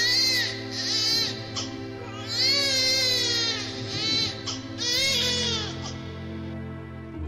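An infant boy cries loudly and continuously near Marwah hill, in long wailing sobs with rising and falling pitch, breaking briefly between cries.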